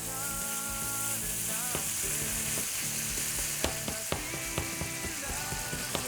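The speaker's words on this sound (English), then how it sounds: "make sure your pan is nice and hot, because it won't take long for this pork to get all brown" Ground pork browning in a hot frying pan with crushed garlic, a steady sizzle running throughout, broken by a few sharp clicks and knocks of utensils toward the end, with no talking.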